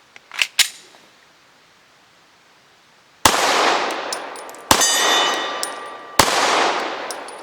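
Smith & Wesson SD9 VE 9mm pistol firing Hornady American Gunner 115 grain hollow points, three loud sharp shots with ringing decay after a few faint metallic clicks.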